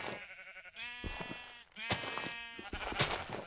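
Sheep bleating in the video game Minecraft, three or four short wavering bleats in quick succession, clear and close, with nothing else around them.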